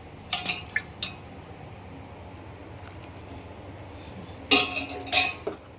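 Cooked mutton broth poured from a pot into a pan: a few soft drips and metal-utensil clinks come in two short bursts, close by and fairly quiet, with a gap of low kitchen hum between them.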